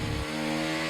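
A race car engine in a racing video game, blipping during a downshift: one short low burst, then a steady buzzing mid-pitched drone, close and fairly faint.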